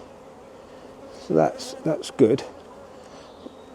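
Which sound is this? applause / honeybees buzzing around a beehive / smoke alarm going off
honeybees buzzing around a beehive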